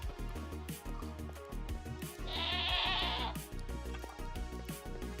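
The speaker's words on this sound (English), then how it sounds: "Here comes the goat." A goat bleats in a video game, a single wavering bleat rising over busy game music and sound effects about midway through.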